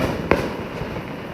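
Distant fireworks mortars around Peachtree City, Georgia, on a July night: one sharp bang stands out over a dense wash of background noise, followed by softer faraway pops.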